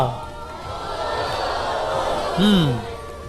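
A studio audience on a televised quiz show claps and cheers in a steady wash of crowd noise, with a brief whistle-like sweep rising near the end.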